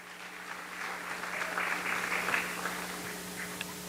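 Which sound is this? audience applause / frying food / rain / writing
audience applause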